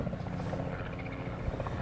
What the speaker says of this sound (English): We've got helicopters flying above us.